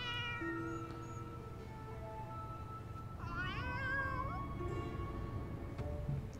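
A cat meows in the Final Fantasy XIV Alexander raid, several drawn-out, wavering meows over a steady game soundtrack, fairly quiet and with no talk.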